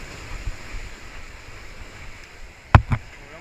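Sea waves wash against a rocky breakwater where people are fishing. A steady wash of surf and wind runs throughout, with one sharper, louder splash near the end. No one speaks.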